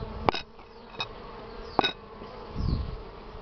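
Bees buzzing at an opened hive with a cramped brood nest, a faint, steady hum with a few sharper buzzing passes close by and some handling noise near the end.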